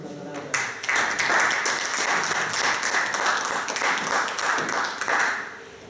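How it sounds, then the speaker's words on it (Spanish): An audience at a Gaza humanitarian-situation talk applauds a speaker who took part in the Global flotilla, with steady, dense clapping that starts abruptly and holds loud and even throughout, with a few voices mixed in. "los recibimos con un aplauso y les damos la palabra."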